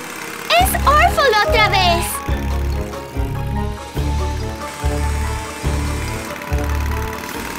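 An animated cartoon motorcycle engine, a rhythmic pulsing low rumble that chugs on steadily, heard beneath excited children's cartoon voices and bright musical sound effects at the start.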